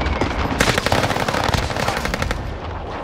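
Dense, rapid automatic gunfire from the video game Call of Duty: Warzone, a loud continuous burst of overlapping shots with no pauses.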